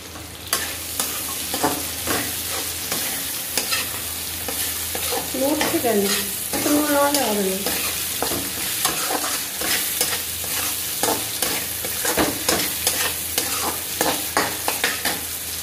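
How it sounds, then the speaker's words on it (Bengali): Chui jhal stirred and fried in a pan: a continuous loud sizzle with repeated scraping strokes of a spoon against the metal, in a steady rhythm with no talking. "এই চই ঝালটা আমি এর মধ্যে দিয়ে দিলাম।"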